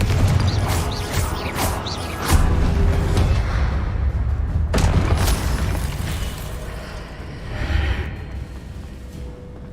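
A Confringo blasting spell goes off in Hogwarts Legacy, its loud booming blasts bursting out amid a dense, rumbling fantasy battle, with several heavy impacts across the scene.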